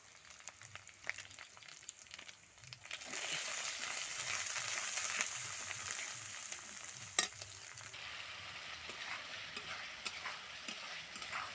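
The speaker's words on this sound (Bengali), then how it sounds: "আমার মশলা অনেকটাই কষানো হয়ে গেছে তেল ছেড়ে দিয়েছে দেখো" Ground chilli, turmeric, cumin and coriander frying in oil for a country chicken curry, a soft steady sizzle that swells after a few seconds, with scattered spoon scrapes and clinks and no voices.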